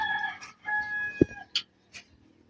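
A black tiger grizzle rooster crows once in a short burst, a clear mid-range call preceded by faint bird chatter and followed by a couple of brief clucks nearby.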